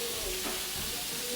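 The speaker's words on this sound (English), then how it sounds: "I'm letting my bacon cook down just a little bit" Bacon sizzles steadily in a pan as the first step of a Tuscan zuppa, a continuous close hiss and crackle with no talking over it.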